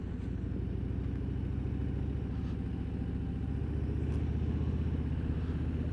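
A vehicle engine with a faulty throttle idles high, a steady low rumble that holds constant and close throughout, with no break in the drone.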